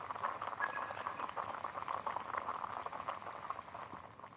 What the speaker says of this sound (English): I will boil some water.